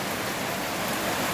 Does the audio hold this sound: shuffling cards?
no